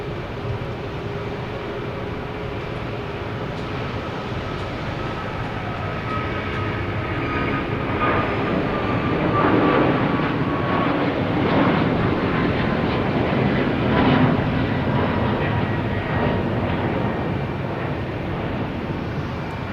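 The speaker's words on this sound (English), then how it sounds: "next taking off is Air Portugal, TAP, heading to Lisbon," TAP Air Portugal Airbus A321neo taking off from Boston Logan Airport, bound for Lisbon: a steady, broad jet roar that swells slightly midway and holds, heard from a distance with no talking.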